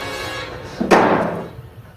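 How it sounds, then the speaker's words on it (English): A door slams in a horror movie: one soft, muffled thud close by after a low, steady background hum, then fading away without a hard crack. "That was the most gentlest slam I've ever heard of a door in a horror movie."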